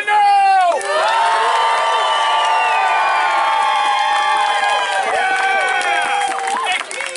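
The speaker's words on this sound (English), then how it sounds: "I need you to go and say hoot, ha, clap, cheer, stomp your feet, whistle" A Renaissance fair audience answers a performer with cheering, whoops and shouts, a loud sustained crowd roar that swells at the start and carries through the whole stretch, with no clear single voice.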